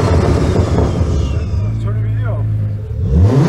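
Turbocharged BMW N55 engine with an 8HP45x transmission swap, spooling and revving while the car drives, a steady engine drone with rising whine over road noise, no talk in between.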